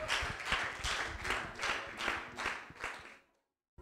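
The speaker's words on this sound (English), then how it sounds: "Let's give the Lord a hand clap of praise." Church congregation clapping in praise during a Sunday night Apostolic service: many hands clap together in a steady rhythmic beat, loud and close, before cutting off into silence.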